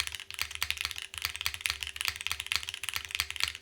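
Close, steady typing on an Orbit R2 mechanical keyboard with a plastic plate and lighter gaskets, with rapid, even keystrokes clacking quietly on their own.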